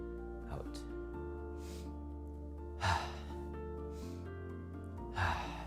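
Audible breaths in and out during a tai chi pump exercise, several soft breathy gusts spaced a couple of seconds apart over calm background music.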